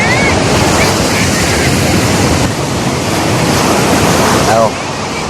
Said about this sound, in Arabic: بنعمل لكم فيديو من هناك اهوت من على البحر